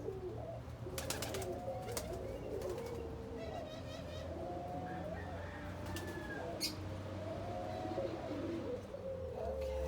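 Doves coo softly in a bird-testing facility under a steady background hum, with scattered chirps and brief flutters, while people talk nearby.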